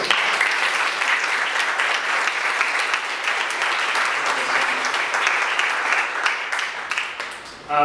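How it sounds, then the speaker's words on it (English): A conference audience claps steadily for a speaker for several seconds, a dense, even wash of applause that holds without fading until the very end. "let's get a round of applause for our speaker."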